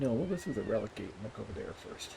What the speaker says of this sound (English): that is the cat complaining when she has no justification for complaining